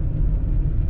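A newly repaired pickup truck running, a steady, loud, low engine rumble heard up close for a brief moment.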